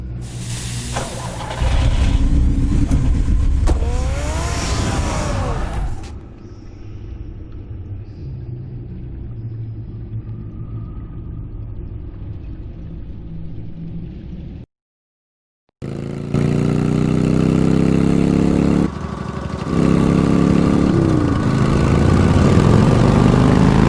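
Batman's car in Batman: The Telltale Series, a loud engine rumbling and revving across the scene, dropping out briefly near the end before returning strongly, with a short quieter stretch in the middle.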